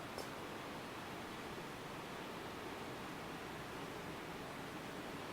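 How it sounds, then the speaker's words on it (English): A waterfall rushes in an unbroken, even hiss of falling water, smooth and constant, with no other sounds over it. "You'll hear the melodic flow of this waterfall throughout the meditation"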